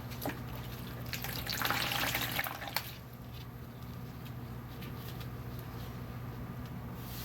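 A washcloth is dipped into a basin of water during catheter care for a female resident, giving a short splash and squish, then fainter dripping and trickling water in an otherwise quiet room.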